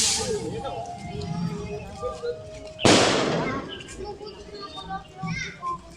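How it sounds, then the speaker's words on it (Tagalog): A single loud firecracker bang with a crackling burst stands out amid children shouting and chattering nearby during a Santo Niño feast celebration. "Solid yung mga paputok ah."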